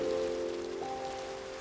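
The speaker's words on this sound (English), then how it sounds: "And it's raining out there." Rain falls in the Minecraft video game as a steady, even hiss of drops, brief and uninterrupted under a low droning hum.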